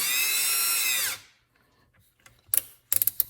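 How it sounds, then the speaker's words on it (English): A power drill whines loudly for about a second and winds down while working on a 1962 Slant Six engine, then a few sharp clicks and rattles of tool handling follow. "if I put it on here and put some force on it, I could turn it."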